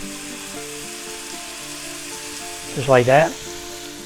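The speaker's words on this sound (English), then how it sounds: "now we're just going to add our green Poblano peppers" Mildly hot green poblano peppers fry with onions in a pan, giving a steady, close sizzle throughout while a voice speaks briefly near the end.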